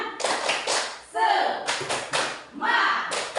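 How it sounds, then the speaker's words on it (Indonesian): A group of teachers at a training session performs a rhythmic spirit clap, sharp bursts of clapping in a patterned beat broken by short spoken chant-like interjections between the claps, close and moderately loud. "Oke, tepuk semangat."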